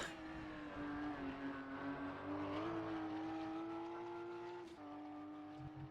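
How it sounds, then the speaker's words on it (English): An endurance race car engine in the rFactor 2 EnduRacers mod drones steadily at high revs, rising gradually before a brief gear-shift dip near the end, loud and alone without talk. "with regards to the car sound in this car, it feels pretty much or it sounds pretty much identical to the sounds that they used to use in the GTC"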